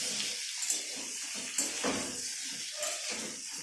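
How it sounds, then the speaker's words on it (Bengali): Small, evenly sized potatoes fry in a pan for a home-style aloo dum, making a continuous hissing sizzle broken by a few sharper stirring scrapes, with no one speaking. "লাল লাল করে আলুটা ভেজে নিচ্ছেন।"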